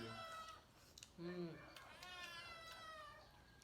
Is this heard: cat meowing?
yes